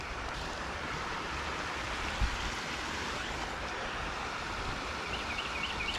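A small waterfall splashes into a fountain pond, a steady broadband rush of falling water close by, continuous and unbroken with no voices.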